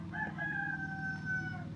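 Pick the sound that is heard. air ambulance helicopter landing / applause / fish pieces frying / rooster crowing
rooster crowing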